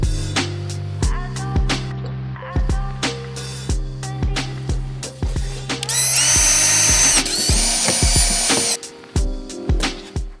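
A cordless power drill whirs in short, repeated bursts while backing screws out of an old VW Polo number plate, with ratcheting clicks between runs and one longer, harsher stretch partway through.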